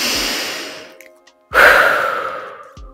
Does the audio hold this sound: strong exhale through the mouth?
yes